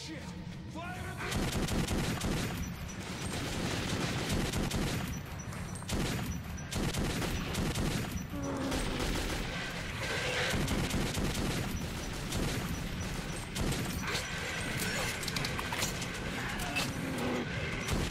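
Gunfire in the video game Metro 2033 on Xbox 360, a steady dense stream of shots and bursts under a continuous game soundscape, loud and sustained throughout.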